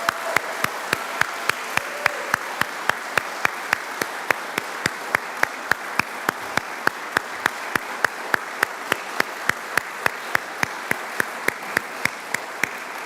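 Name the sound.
audience applause at a hooding ceremony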